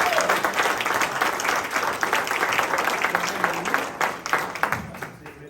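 A ceremony audience applauds a band, a dense, steady wash of many hands clapping that stays loud throughout, with a few sharper claps near the end.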